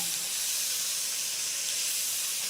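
Smoked bacon frying in a pot with roughly chopped onion and celery, a steady, close, even sizzle and hiss running without pause for a couple of seconds, no voices.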